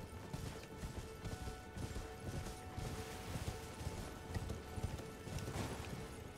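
Horse galloping in the video game Elden Ring, quick continuous hoofbeats over a dense rumbling ambient bed, fairly faint and steady throughout with no talking.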